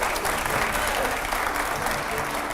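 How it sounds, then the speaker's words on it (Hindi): A studio audience at a televised Hindi political debate gives a sustained, dense round of applause, loud and steady for the whole stretch with no pause. "तालियां हो जरा"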